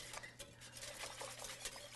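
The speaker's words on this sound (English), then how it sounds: "we're going to stir this a little bit just to cool it down to temperature" Homemade alcohol-based eggnog is stirred in a bowl, a steady close scraping and light clinking of utensil against the bowl running continuously for a couple of seconds with no talk.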